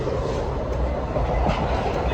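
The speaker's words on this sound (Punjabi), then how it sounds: "ਗੱਡੀ ਬਹੁਤ ਭੱਜ ਰਹੀ ਆ" A moving train rumbles steadily from inside a carriage, with continuous loud wheel and track noise and a faint rhythmic clatter.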